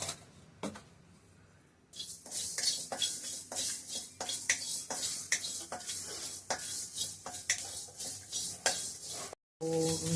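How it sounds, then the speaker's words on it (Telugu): A spoonful of fenugreek seeds is dry-roasted in a pan while being stirred, giving a steady run of scraping, rattling clicks of spoon against metal with a light sizzle, close and alone without talk. "ఒక స్పూన్ మెంతులు ఫస్ట్ వేయించుకోవాలి"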